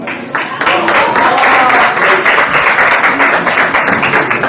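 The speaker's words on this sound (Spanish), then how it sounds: "un aplauso también, por favor" Audience applause fills the room at a press conference for the 2018 film El Complot Mongol, a dense, steady clapping that stays loud and unbroken for several seconds.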